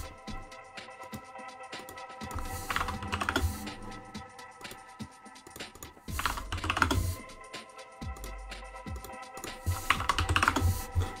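Computer keyboard typing as dimensions are entered in Autodesk Inventor CAD software: close, steady bursts of rapid key clicks in clusters with short gaps, no voices.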